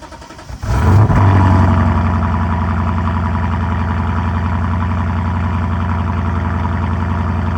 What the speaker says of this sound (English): I returned a titanium version, and this is what the car now sounds like.